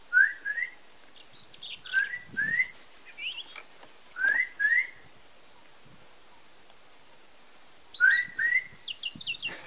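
A peregrine falcon gives short, rising whistled chirps in pairs, repeated four times at a steady pace at close range, with light rustling between the calls.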